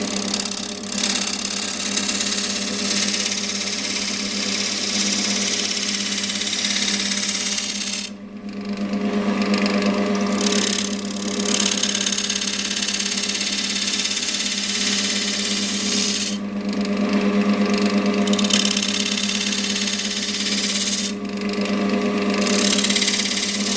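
Wood lathe spinning a sanded workpiece while chisels cut accent details, a loud, steady motor whir with a grinding, scraping edge that dips briefly a few times as the tool is lifted, no talk over it.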